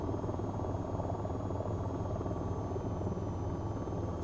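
An AH-94 helicopter flies in the video game VTOL VR with a steady, loud rotor drone and buzzing engine whine that stays even throughout.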